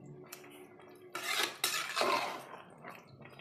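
Close, loud scraping of a metal spoon around a pot of mushroom biryani rice, with clinking bursts of utensil against the vessel and no talking.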